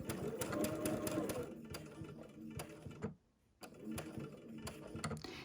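A sewing machine stitches a quarter-inch quilt seam on a butterfly quilt, its rapid steady chatter running in bursts with a brief pause near the middle.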